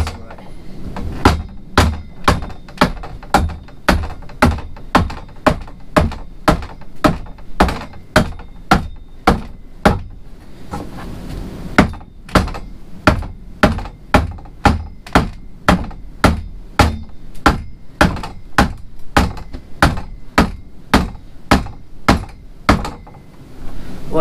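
Rapid, evenly spaced hammer blows strike over and over, about two per second, driving a fitting into an auger-drilled hole in wood for a solar hot water panel, loud and close with a brief pause midway.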